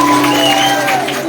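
An audience at a school-age singing performance in cold Bangli, Bali bursts into brief, loud applause, the clapping mixed with a sustained musical tone and light crowd noise.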